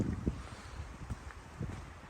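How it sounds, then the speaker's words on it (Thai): Gusty wind blows outdoors on a very cold day, heard as soft, uneven low buffeting against the microphone, faint overall with a few stronger puffs. "ลมวอยๆ นะคะ"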